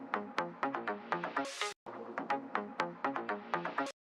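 Synth layer pitched down a full octave plays a rhythmic run of repeated tonal hits, a brief bright burst near the middle, then the pattern resumes; no talking.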